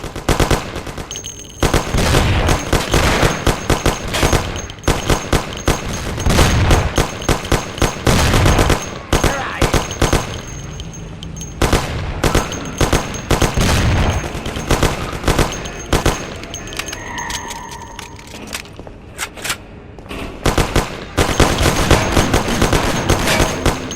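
Rapid machine-gun and pistol fire from the 1930s-era gangster video game Mafia: The City of Lost Heaven crackles continuously for about twenty seconds, loud and dense with clanging impacts and brief lulls.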